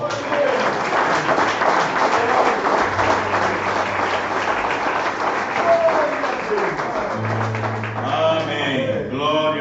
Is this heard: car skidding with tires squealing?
no